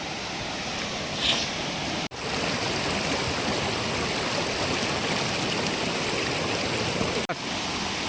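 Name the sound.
water flowing down a stream or waterfall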